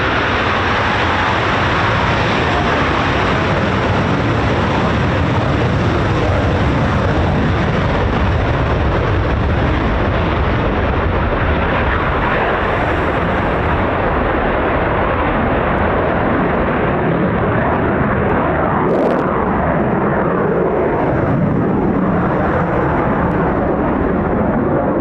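A Eurofighter Typhoon FGR4 jet at RAF Coningsby pulls into a vertical climb, its engines a loud, continuous roar that fills the whole clip with no break.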